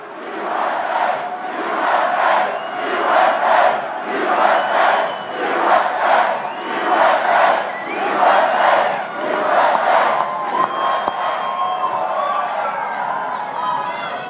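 A large crowd at a political rally in Lebanon, Ohio, cheering and shouting in loud, continuous waves that swell and ebb over a long stretch, with scattered whoops and whistles near the end.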